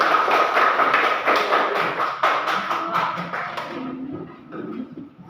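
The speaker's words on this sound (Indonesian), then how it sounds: "tepuk tangan kita." A classroom of junior high school students gives a round of applause after a group presentation, with steady, fairly loud clapping that thins out and fades after a few seconds.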